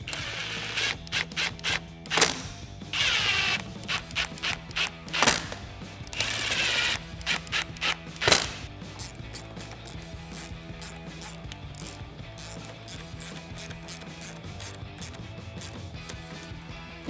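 A ratchet wrench tightens 8mm bolts while installing a Cervini's C-Series grille on a 2018 Mustang GT or EcoBoost. It gives a steady run of close, crisp ratcheting clicks in quick repeated bursts, then continuous clicking with no talk.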